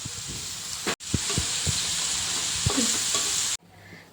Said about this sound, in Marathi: याच कढईमध्ये आपण कांदेसुद्धा थोडेसे परतून घेणार आहोत